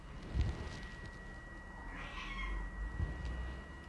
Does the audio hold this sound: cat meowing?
yes